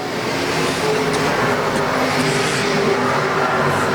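IMCA Sport Mod race cars circle the track at Arizona Speedway during heat races, their engines a loud, continuous, close roar that never lets up.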